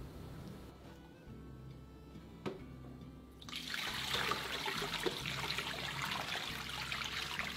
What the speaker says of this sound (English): Rinse the napa cabbage in running water until all the salt on the surface has been removed